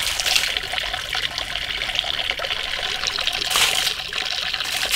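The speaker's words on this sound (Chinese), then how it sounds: "把排骨先冲干净。" Lamb ribs rinsed under running water, a continuous close splashing trickle with brief louder gushes as the meat shifts under the stream.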